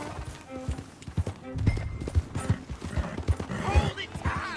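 Horse hooves clip-clop steadily while riding in the Western video game Red Dead Redemption 2, a quick rhythmic clatter mixed with creaking tack, a snort and game voices talking over it.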